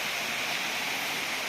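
A hidden forest waterfall near Dhenkanal gives a steady, hissing rush of falling water, even and continuous, heard faintly from some distance.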